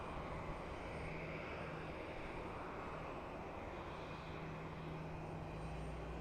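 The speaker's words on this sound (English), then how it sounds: "Looks like our next arrival is probably going to be the Alaska E-175 from Seattle" An Alaska Embraer E-175 jet arriving at Boise airport gives a steady, distant engine roar and rumble that holds evenly throughout, with no talking.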